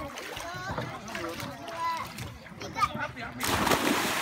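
A person jumps into the sea off Derawan Island, Indonesia, landing with a loud splash at the end, after a child and adults chatter and call out.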